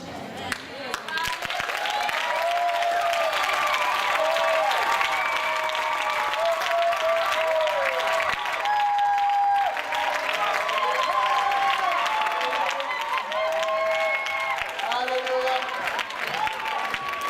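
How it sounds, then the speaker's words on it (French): A church congregation at a French-language Sunday school presentation applauds at length, steady crowded clapping filling the room with scattered voices and cheers threaded through it. "On peut les applaudir."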